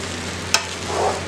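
Wooden spoon stirring rice cooking over a high flame for Malabar chicken biryani, a single brief scrape against the pot with soft sizzling around it, close and fairly quiet.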